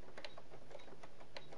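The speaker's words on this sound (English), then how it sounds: "And I'm going to sew just off the edge" A sewing machine stitches just off the front edge of a wedding dress bodice, giving a quiet, steady run of rapid mechanical clicks and whirring with faint rhythmic pulses throughout.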